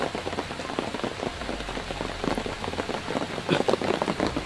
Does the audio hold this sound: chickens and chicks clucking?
no